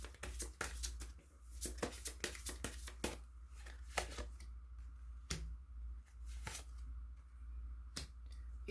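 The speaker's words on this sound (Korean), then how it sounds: "그럼 조언점 카드 하나 더 뽑아보도록 할게요" Oracle cards are shuffled and drawn in a quiet room, making a rapid series of sharp, close slaps and flicks followed by a few sparser card snaps.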